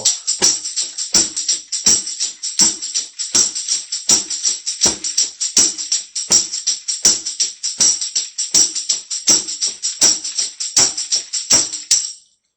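A snare drum plays a steady, fast New Orleans second line eighth-note groove of crisp, rattling strokes with accented hits woven in, loud and close, ending abruptly.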